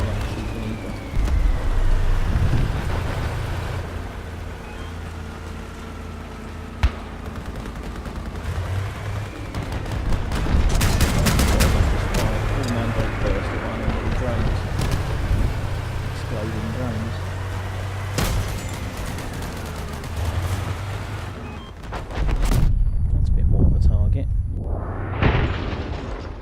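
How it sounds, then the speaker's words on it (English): Vehicle-mounted guns fire in Crossout raid combat, sharp shots and bursts over a steady engine drone, with someone talking throughout. "I don't want to be shooting to that little gaggle of them over there"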